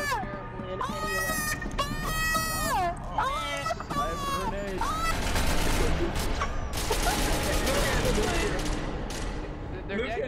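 Video game gunfire comes in rapid, dense bursts and sustained volleys, mixed with overlapping voices of players talking and shouting throughout.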